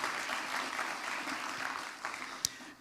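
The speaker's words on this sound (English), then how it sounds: "How about a big round of applause for everybody who played a part in that this year?" Applause from an event audience fills the clip as a dense, steady patter of many hands at moderate distance, then thins out near the end, with one sharp knock.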